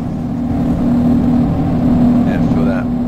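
A steady, low car engine drone in the video game Arma 3 runs throughout, with a voice talking over it near the end.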